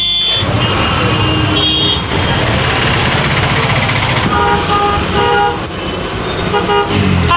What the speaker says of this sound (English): honking here means nothing like it does back home